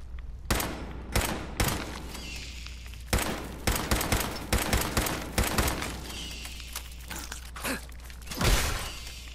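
Pipe pistol gunshots in Fallout 4 during a fight with mirelurks: a rapid, irregular string of sharp, loud cracks over a steady low hum, with a few creaks and mechanical clicks between shots.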